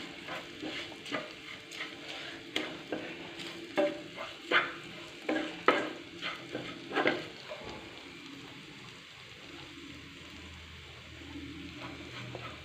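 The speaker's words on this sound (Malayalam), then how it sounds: "ഇളക്കാം ഗൈസ് നല്ലപോലെ." Clam pickle being stirred in a frying pan, with chilli powder and asafoetida added, scraping and clattering in quick repeated strokes over a steady close sizzle, then settling into a softer continuous fry.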